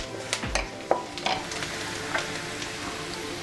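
Cumin seeds and spices fry in a pan for jeera rice, a soft continuous sizzle broken by a few light stirring clinks and scrapes, close and without talk.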